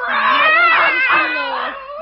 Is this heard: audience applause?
no